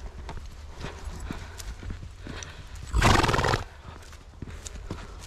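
A Mérens horse out on a walk in Brittany, with hooves clip-clopping steadily up close, then a loud whinny of about half a second in the middle before the hoofbeats carry on, with faint talk beneath.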